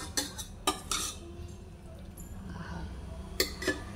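Cooked masala brinjal in gravy is spooned from a pan onto a plate, giving a few sharp metallic clinks and scrapes at irregular intervals over a quiet, close kitchen background.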